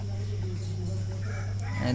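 Chickens and a rooster cluck and call on a village farm near newly built wooden coops, a steady low hum running underneath and brief higher calls standing out toward the end.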